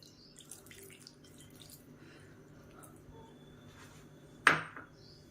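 Half a cup of water splashes into a bowl of flour and ghee for badusha dough: one short, sharp pour near the end, after quiet kitchen clatter.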